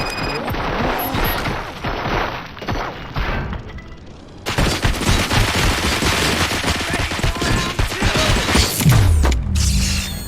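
Rapid gunfire in the video game RoboCop: Rogue City, dense bursts of automatic shots with mechanical clatter and crashes, loud and sustained after a brief quieter stretch.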